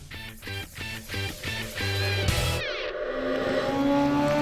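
Sidecar racing motorcycles on a rain-soaked track at Nogaro in the FSBK championship: a rapid series of rising engine bursts repeats through gear changes, then a loud close pass leads into a sustained, smeared roar with spray-like hiss.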